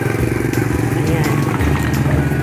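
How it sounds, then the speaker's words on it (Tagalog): A motorized tricycle passes close by in a busy market, its engine giving a loud, steady buzzing drone. People talk over the engine throughout. "Tricycle."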